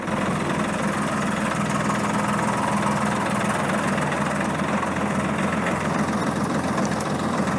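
A Swaraj 855 FE tractor engine runs steadily at idle, a continuous close rumble with a slight knocking throb and no speech over it.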